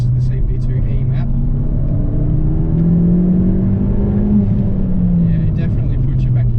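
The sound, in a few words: car engine accelerating on the Collins Performance CP2E map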